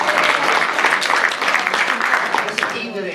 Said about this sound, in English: How about a round of applause for Reagan?